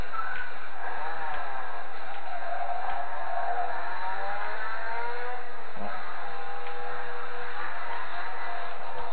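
A car engine revs with nitro in the Need For Speed Underground 2 video game, a loud steady drone whose pitch sweeps up and down between gear changes, with no talking.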